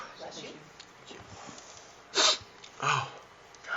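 One person in a lecture room gives a couple of sharp, brief sneezes, each a short loud burst above quiet room noise.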